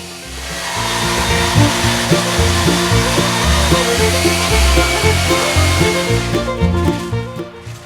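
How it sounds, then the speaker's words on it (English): Sanding a cut edge on the joining piece for two kayak hulls, a loud steady abrasive power-tool drone with a rhythmic pulsing, close and alone, fading at the end. "Smoothing the cut."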